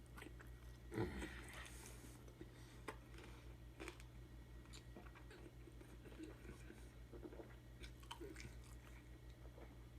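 Quiet chewing of a greasy breakfast bacon and pork burger with cheese, with faint wet bites and crunchy mouth sounds over a low steady hum.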